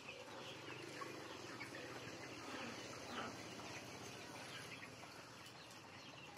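Layer chickens kept on raised slatted platforms cluck faintly and continuously in the background, a soft scattered murmur of many birds with no voices.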